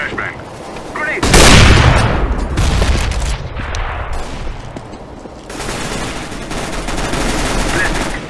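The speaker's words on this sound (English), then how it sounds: "I'm throwing a grenade. Throwing flashbang." Grenade and flashbang blasts in a Counter-Strike: Global Offensive match, a loud sudden burst followed by sustained crackling gunfire and explosions that stay dense and close throughout.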